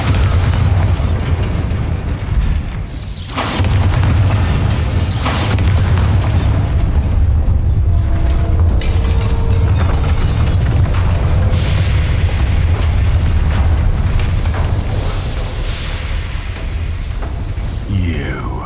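A Bombarda spell explosion in the video game Hogwarts Legacy booms loudly and continuously, with heavy low rumble and bursts of crackling debris, layered with other dense battle effects.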